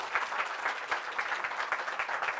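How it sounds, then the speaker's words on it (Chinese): Audience applause at a tech conference session, a steady wash of clapping hands lasting throughout with no talk over it. "谢谢 Edward， 掌声鼓励"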